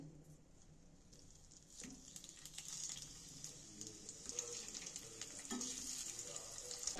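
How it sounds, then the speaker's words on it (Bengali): Eggs frying in hot oil in a pan for a spicy dhaba-style egg curry, a steady close sizzle that grows louder, with scattered crackles and soft scraping as the eggs are turned. "এবার আমি ডিমগুলোকে উপর করে করে এক একটা ডিমকে দিয়ে দিচ্ছি।"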